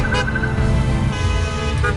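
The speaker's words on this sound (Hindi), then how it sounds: "डॉक्टर उमा के सम्मान में लोग हॉर्न बजा रहे थे और हाथ हिला रहे थे।" Car horns honk in a convoy of about 200 cars, loud and close, with overlapping toots sounding over steady traffic noise.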